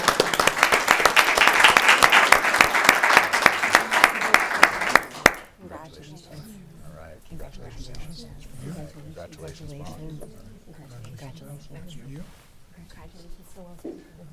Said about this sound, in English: You can give one more round of applause while they come up.